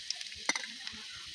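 Chopped garlic hits hot oil in a pan while shetki greens are being fried, giving a quiet, steady sizzle with a brief clatter in the middle.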